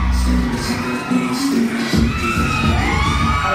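A K-pop concert crowd screaming loudly, sustained high shrieking cheers that swell and rise in pitch, close and dense with no talk over them.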